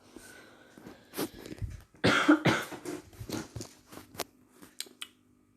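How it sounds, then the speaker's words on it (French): Several short coughs scattered through a few seconds, fairly close, with a dense burst of coughing near the middle and quieter ones trailing off. "c'est pour ça que je tousse un petit peu"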